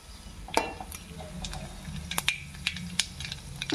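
Mustard seeds, cumin and lentils frying in a pan of oil give off small scattered pops and crackles over a low sizzle, with a few sharper clicks.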